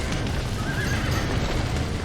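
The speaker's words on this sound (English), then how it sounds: "Back that dumb horse!" A horse whinnies in a rising, drawn-out call over a dense, steady rumble of background noise, in the video game Red Dead Redemption.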